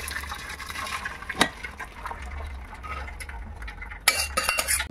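Cooked lentils poured through a sieve set over a pot, a soft wet splatter and trickle of liquid with clinks of metal against the sieve, and a louder clatter near the end.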